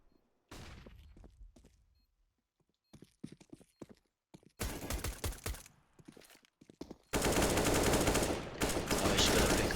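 Pistol gunfire from a Counter-Strike match in an amateur esports league, with scattered shots in bursts that build to a loud, dense barrage near the end, over intermittent background noise.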